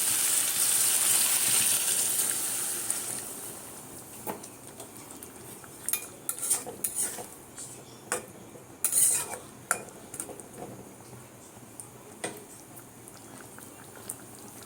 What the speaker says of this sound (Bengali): এইবারে দেবো জল